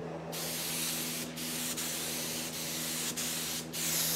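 A cheap $50 paint gun spraying paint onto a welded, hammer-and-dolly straightened car body panel, a loud continuous close-up hiss broken by several short pauses where the trigger is released.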